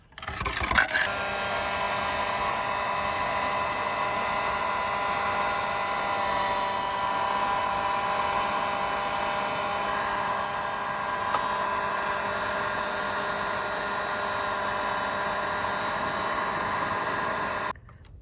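Heat gun heating old Victorian coat hanger hardware to loosen the screws, a continuous steady whine and blowing roar that runs close and unchanging for most of the stretch, with no talking.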